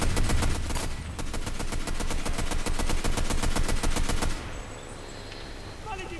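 Rapid bursts of automatic gunfire crack in a fast, evenly spaced stream in a WWII shooter game, loud and sustained for several seconds before stopping, leaving quieter background battle noise.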